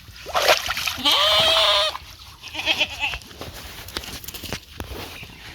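Water splashes noisily while a sheep being bathed bleats loudly nearby, followed by more splashing, dripping and shuffling sounds.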